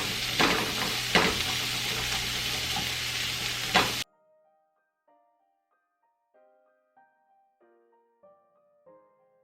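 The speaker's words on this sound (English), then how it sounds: "We're gonna add a little bit more olive oil. And now we're gonna throw in our other veggies." Vegetables sizzling in olive oil in a pan on a stovetop with occasional stirring clatter, loud and close for about four seconds, then cutting off to near silence with faint tonal notes.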